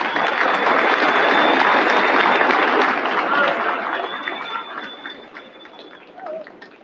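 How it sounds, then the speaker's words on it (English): A large audience at a Citadel commencement ceremony applauds in a broad, sustained wash that gradually thins and fades, with faint crowd murmur underneath. "Stand up, give them a round of applause."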